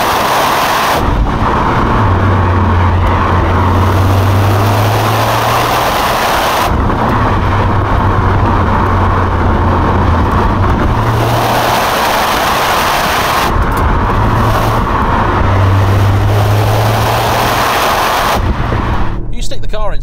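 A Toyota GR Yaris GR-Four with all-wheel drive in sport mode drives hard, with heavy wind and road rumble and an engine note that rises in repeated pulls, some buffeting throughout.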